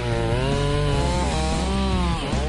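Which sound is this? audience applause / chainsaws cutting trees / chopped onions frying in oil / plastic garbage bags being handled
chainsaws cutting trees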